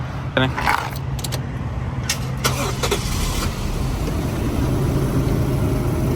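Toyota Mark II JZX110 with a 1JZ engine cranks with a short whir, then settles into a low, steady idle hum, with keys and a few clicks near the start.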